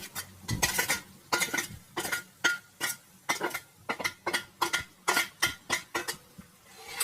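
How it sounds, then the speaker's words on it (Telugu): A metal spatula scrapes and taps against a pan while frying ground Andhra-style chigurupodi spice powder, a quick, steady rhythm of sharp clinks, repeated continuously with no talking. "ఇది కూడా బాగా పొడి పొడిగా కొంచెం వేగేంత వరకు వేయించుకోవాలి"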